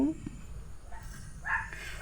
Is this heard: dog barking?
yes